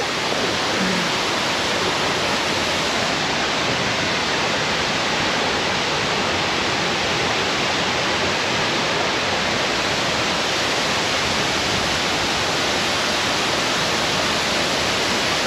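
A countryside waterfall at a camping spot roars in a dense, unbroken rush of falling water, loud and close, holding constant without any voices.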